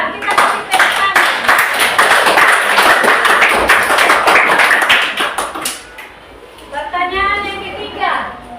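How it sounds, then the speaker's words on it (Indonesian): Schoolchildren in a classroom give a burst of loud, fast hand clapping that lasts several seconds, then fades as a teacher's voice returns. "Kita kasih tepuk tangan."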